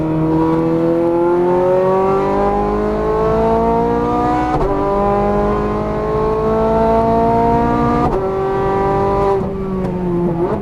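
A Ferrari F430 Scuderia engine revs hard on a race track, its loud, rising pitch climbing through gears with sharp drops at each upshift, the screaming note steady and close throughout with no talk.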